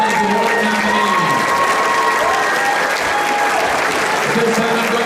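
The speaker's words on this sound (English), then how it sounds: "let's have a nice round of applause for our W.B. Hawkins Award nominees" Steady, loud applause from a crowd honoring award nominees at a varsity girls' bi-county basketball championship, filling the whole stretch with dense clapping while a few voices and a high tone sound underneath.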